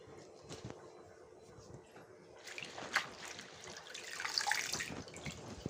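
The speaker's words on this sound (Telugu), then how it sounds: "నీట్గా అయితే వాష్ చేశానండి" Gongura leaves being washed in water in a kitchen: faint, close splashing and trickling that grows busier toward the end, with no talking.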